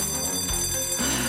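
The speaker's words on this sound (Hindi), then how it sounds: "घंटी बज गई।" A bell rings in a short sustained tone with a bright metallic shimmer, continuing briefly.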